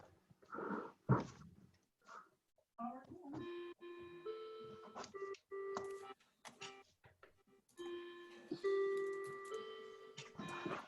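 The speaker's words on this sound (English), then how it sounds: "Must be 10 o'clock. I hear the chimes." A clock rings out a series of sustained, bell-like chime tones, fairly quiet and somewhat distant, following a few moments of brief conversation.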